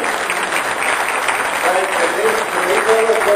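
Applause for students at a city council meeting in Calexico: a full, continuous burst of clapping from the chamber, with a voice starting to speak over it near the end.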